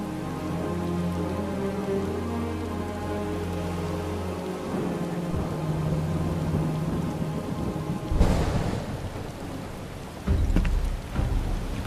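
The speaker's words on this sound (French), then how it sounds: "Il pleut des cordes." Heavy rain pours steadily with low rumbling thunder rolling underneath, building to louder cracks and booms toward the end, in the video game Final Fantasy VII Rebirth.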